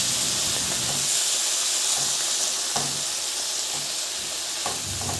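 Canned mackerel sautés in a pan, a constant bright sizzle and hiss with occasional stirring clinks, close and alone.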